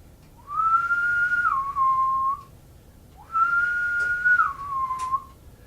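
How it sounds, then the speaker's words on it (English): A strange whistling comes in two long, clear, sustained phrases, each gliding down slightly at the end, with a short pause between them and no talking. "they heard a strange whistling"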